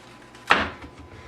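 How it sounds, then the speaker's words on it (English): A knife trimming an end off a fresh watermelon on a cutting board, a single close crunching cut that fades within a second, no talking. "And then from there, trim each end off."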